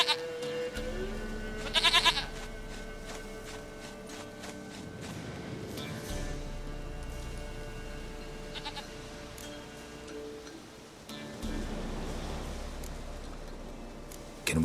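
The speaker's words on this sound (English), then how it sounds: "Goat of mine, dearest, sweetest goat." A goat in The Witcher 3: Wild Hunt gives a couple of brief wavering bleats over a low ambient bed, with faint footstep-like taps and soft rustles scattered through.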